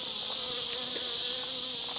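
A wild honey bee swarm flies around a hive outdoors at a ranch, a continuous dense buzzing drone, close and steady, with no talk.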